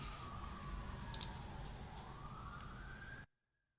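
A police siren wails steadily in the background, faint and distant with a slow rising and falling tone, then cuts off abruptly.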